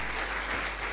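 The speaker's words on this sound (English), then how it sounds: "A big clap for all the teachers" A large crowd at an International Day of Yoga gathering applauds the yoga teachers, a dense, steady wash of clapping heard at a moderate distance with a low hum beneath.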